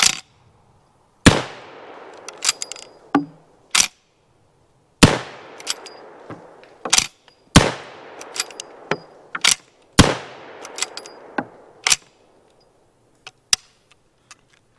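A Cimarron Winchester Model 1866 lever-action saddle ring carbine fires outdoors, several loud sharp gunshots each followed by a long echoing decay, spaced a few seconds apart with quieter clicks and clacks of the lever action between shots.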